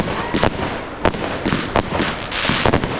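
Firework cakes from the Cash Game line by Fire Magic go off at a public display in Liverpool, a dense roar of overlapping bangs and crackles with several louder bursts cutting through the sustained noise.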